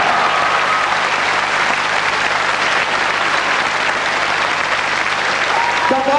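Sustained, roaring applause from a large audience at the Miss France pageant for the newly crowned winner. It holds steady and loud throughout, with a voice faintly audible near the end.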